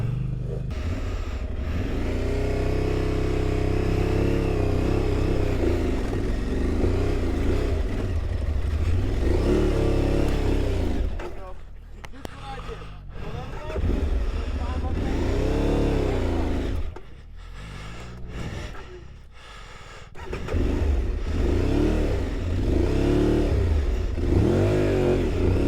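A lighter motorcycle at a March moto rally rides and revs hard, its mid-pitched engine loud and close as it climbs and drops through the gears, briefly easing off before surging again.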